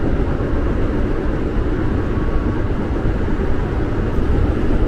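A KRL commuter train near Bekasi and Cikarang runs at speed toward about 95 km/h, heard as a loud, continuous low rumble and roar with steady track noise and no pauses.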